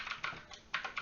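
Quick bursts of typing on a computer keyboard, a handful of close, crisp key clicks in an irregular rhythm within a second, with no talk.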